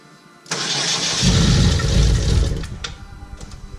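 A car engine cranks and catches, roaring up loudly and running steadily before easing down, with a few faint clicks near the end.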